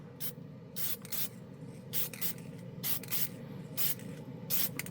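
Testors Extreme Lacquer spray can blasting Deja Blue paint in a series of short hissing bursts, about eight close sprays with brief pauses between them, no talk.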